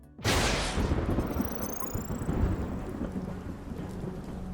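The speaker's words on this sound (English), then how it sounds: "Oh, and there was a storm." A thunderstorm with rain lashes a dock lined with containers beside a rough sea in the video game Unmetal, opening with a sudden loud thunder crack that rolls into steady heavy rain.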